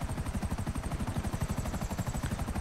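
Police helicopters in GTA 5 Online give a steady, loud rotor chop, with rapid rhythmic low thumping that continues without a break throughout.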